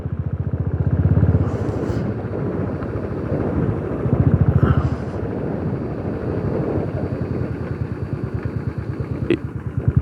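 Motorcycle ride near Turtuk on the India–Pakistan border in Ladakh, a steady close engine drone with wind noise running throughout, a few louder surges along the way, and no talk.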